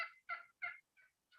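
Turkey yelp call in a spring turkey hunting lesson: five clipped, evenly spaced notes sounding alone, close and fairly loud, the last two a little softer.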